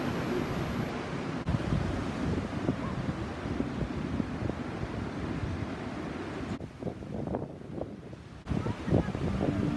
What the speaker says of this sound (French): Une houle de plus de 7 mètres, avec des vagues énormes qui s'écrasent sur le rivage.